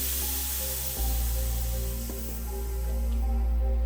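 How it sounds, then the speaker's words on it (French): Air hisses steadily out of the inner tube of a Dualtron mini electric scooter tyre as it is fully deflated. The hiss is close and continuous for several seconds, with a faint steady hum underneath. "Maintenant on peut dégonfler le pneu entièrement"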